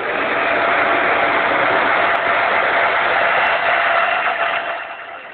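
A hairdryer blows steadily at close range while heating shrink covering on wooden helicopter rotor blades, a continuous broadband whoosh that holds even for about five seconds and eases slightly at the end.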